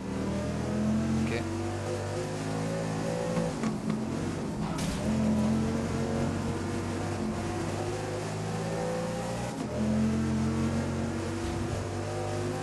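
Racing car engines in the video game GRID rev and roar steadily throughout, with sustained tonal engine drone and shifting pitch, as a voice speaks over the game sound.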